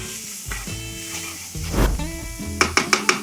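Onions and seasonings sizzle in a hot pan for venison taco spaghetti, a steady close frying hiss with a few sharp clacks of a utensil against the pan near the end.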